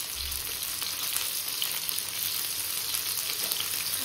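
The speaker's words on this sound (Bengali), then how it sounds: "এই যে দেখো চিকেনগুলো ভাজা হচ্ছে, একটু লাল লাল করেই ভাজবো" Chicken pieces frying in hot oil give a continuous close crackling sizzle. It holds at an even level throughout, with no talking.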